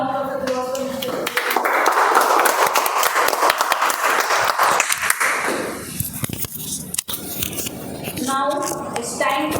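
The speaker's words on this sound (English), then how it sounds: "Can we have a great round of applause for Mr." Applause at a Toastmasters club meeting swells for several seconds from a room of members, with talk before and after it.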